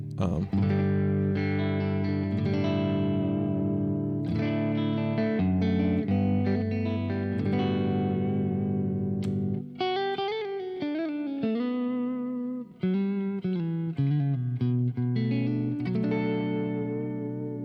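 Electric guitar with split pickups played through a Quad Cortex amp preset, sustained distorted chords and single-note lines with effects, continuous and loud without speech.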